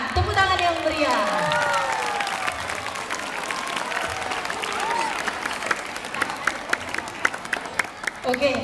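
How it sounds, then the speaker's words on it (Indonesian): Students at a junior high school assembly in Medan break into lively applause and cheering, the noise rising as a voice fades out, then settling into steady crowd clapping with scattered sharper claps near the end. "Tepuk tangan yang meriah"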